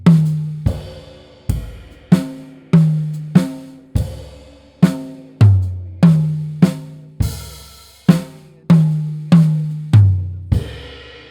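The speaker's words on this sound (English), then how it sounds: "if I were to take that rhythm and just play it across the drum set with just singles" Single-stroke drum fill played across a drum set, about eighteen crisp hits moving between toms and snare in an even, phrased rhythm, each ringing briefly and decaying, close and loud with nothing else heard.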